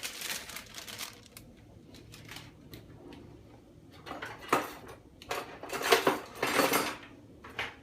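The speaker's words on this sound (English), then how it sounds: "And we'll give it a quick stir around, just like that." A spoon stirs beans and mixed vegetables in a pot, producing scattered soft clinks and scrapes that build into louder, closer clattering bursts toward the end.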